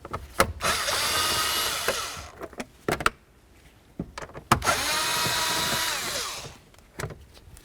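A power drill removes screws from a plastic panel on a 1988–2000 Chevy C/K1500 during a blower motor replacement, in two sustained whirring runs of about two seconds each, separated by clicks and handling noises.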